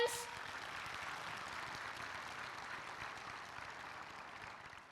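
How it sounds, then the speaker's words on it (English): Audience applause at a school class annual day celebration, a dense steady wash of clapping from a crowd that holds for about five seconds, then begins to taper slightly. "Can we get a loud and thunderous applause from you"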